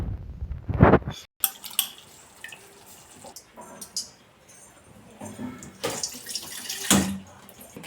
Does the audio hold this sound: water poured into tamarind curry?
yes